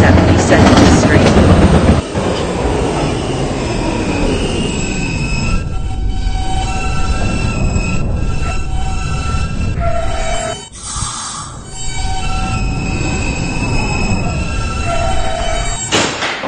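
An R160B Alstom subway train car on New York B line runs along the rails, loud rumbling with sustained high-pitched wheel squeals and tonal whines rising and falling, a brief dip midway, no voices.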